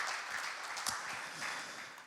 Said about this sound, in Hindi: इसके लिए एक जोरदार ताली प्रभु यीशु मसीह के लिए